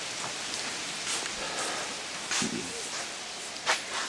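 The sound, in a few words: rain falling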